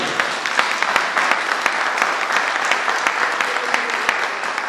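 Congregation applause at a church opening service, loud and continuous hand clapping with sharp individual claps standing out from the crowd.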